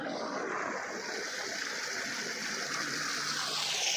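Water gushing steadily from a small turbine tube well pump onto a wheat field, a continuous broadband rush heard close and loud for the whole stretch with no talk over it.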